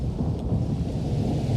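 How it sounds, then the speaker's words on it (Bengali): Heavy rain pours beside a wetland while loud thunder rumbles close by, a deep sustained roll over the constant hiss of the downpour, with no voices. "বিলের কাছে পৌঁছাতেই জোর বৃষ্টি শুরু হলো, সেই সাথে বিকট বজ্রপাত"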